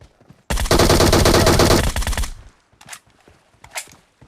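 Automatic gunfire in the mobile video game PUBG Mobile: a loud sustained burst of rapid shots lasting about two seconds, followed by a few scattered fainter reports and clicks.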